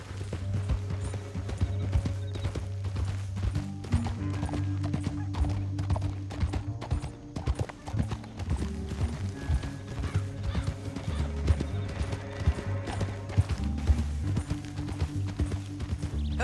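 Horse hooves clip-clop steadily during riding in Red Dead Redemption 2, with a brief neigh, under a continuous bed of background music.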